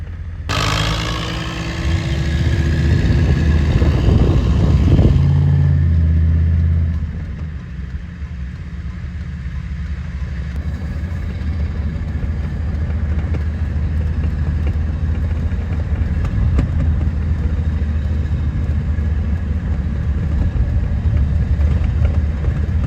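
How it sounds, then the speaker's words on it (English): A tractor engine drones steadily while driving out to a farm to start cutting hay, louder and rougher for the first several seconds, then settling into an even, continuous hum with no talking. "This tractor moves a little quicker than the old David Brown, so that's good."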